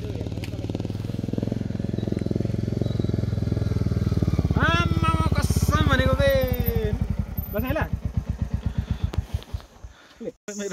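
A motorcycle with a failing clutch plate on a mountain road runs with a loud steady engine drone that later breaks into uneven chugging pulses, while someone talks over it.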